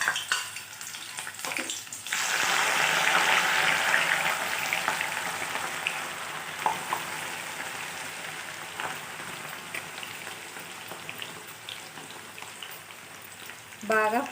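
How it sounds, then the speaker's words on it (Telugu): Ivy gourd pieces frying in hot oil, starting as a loud, dense sizzle that stays steady and slowly eases, with light stirring clicks and a faint voice at the start and end. "దొండకాయ ముక్కలు వేసి ఫ్రై చేసుకుందాం."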